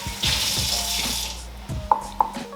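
Kitchen tap running steadily into a sink while vegetables are washed, a close hiss of flowing water with a couple of small clinks near the end.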